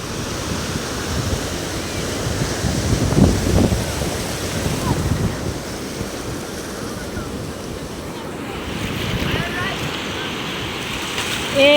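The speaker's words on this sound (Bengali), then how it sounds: "ঢেউটা আমাদের দিকে ধেয়ে আসতেছে" Surf rolling in on the beach at Cox's Bazar, a steady broadband wash of breaking waves with wind buffeting the microphone, swelling around the third second and again near the end.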